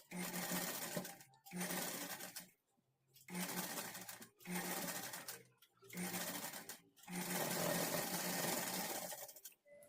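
A sewing machine stitches puff sleeves onto a bodice in five loud, close bursts of rapid whirring, separated by short silent pauses as the fabric is adjusted.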